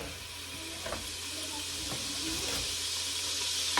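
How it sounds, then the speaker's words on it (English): Onion and fish frying in hot oil give a steady, fairly faint hiss that runs throughout, with a few soft knocks from the pan. "as our oil is ready, as you can see, I'm gonna add in our onion, and then I add in our fish to cook"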